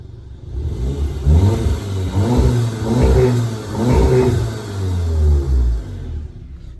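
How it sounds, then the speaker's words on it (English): VW Golf R MK7 engine in Eco mode, revved three or four times in quick swells, a loud close exhaust note rising and falling between idle. "it's interesting to hear the exhaust note on Eco"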